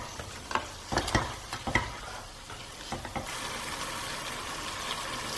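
A spoon stirs salt through split pea chana dhal in a pan: a few scraping strokes near the start, then a steady frying sizzle that continues on its own.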